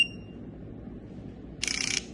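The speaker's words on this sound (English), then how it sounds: "hear this beep." Electronic beep from a smart lock as it resets, a short high tonal pulse at the very start followed later by a brief louder burst of rapid bleeps over a quiet background hum.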